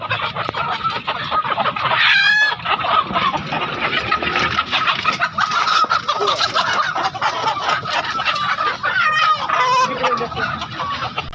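Free-range village chickens cluck and squawk continuously at a busy market in Makassar, with a couple of louder crowing-like calls standing out over the dense flock noise.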